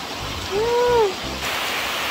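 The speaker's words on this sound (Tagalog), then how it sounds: "Lakas ng ulan." Heavy rain pours down in a steady, dense hiss, with a brief rising-and-falling tonal whoop partway through.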